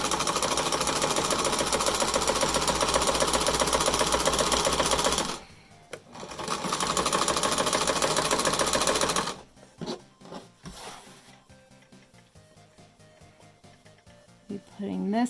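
Home sewing machine stitching a 1/4-inch seam along the long side of a DIY fabric mask, a loud steady whirring run broken by a brief pause, then a second burst before stopping into small handling noises.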